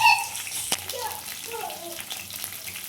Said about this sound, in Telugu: ఆయిల్ హీట్ అయిన తర్వాత ఆనియన్స్ పచ్చిమిర్చి కరివేపాకు వేసుకున్నాను